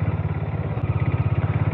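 A Harley-Davidson X440 motorcycle being ridden, its engine giving a steady low, throbbing pulse close by for the whole stretch, with no talking over it.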